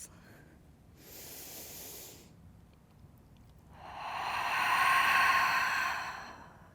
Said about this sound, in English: Take 3 full breaths.